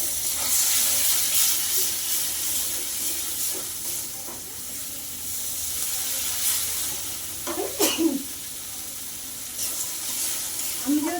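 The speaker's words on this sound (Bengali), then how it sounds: "অল্প একটু জল দেবো" A little water goes into a cooking pan of fried-down spice masala, producing a steady close hiss and sizzle throughout, with a few clinks and splashy bursts.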